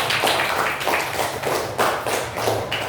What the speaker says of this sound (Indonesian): Tepuk tangan dulu untuk kelompoknya